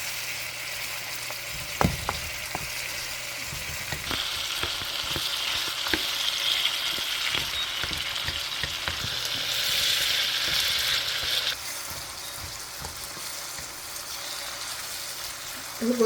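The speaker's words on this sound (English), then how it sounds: "Let us steam to release that fragrance and that flavor in the fish." Fish with carrots sizzling and steaming in a pot, a constant frying hiss with a brighter spitting burst in the middle, punctuated by scattered knocks and scrapes of a utensil against the pot.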